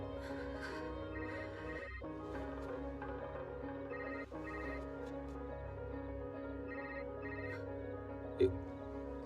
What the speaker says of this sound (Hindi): कौन इतनी रात को फोन कर रहा है तुम्हें?